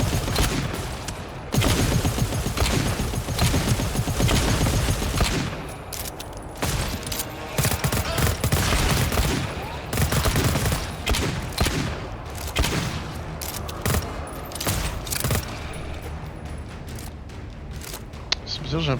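Heavy, sustained gunfire in the co-op video game GTFO, with a sentry turret firing amid dense overlapping shots and booms that stay loud and continuous throughout.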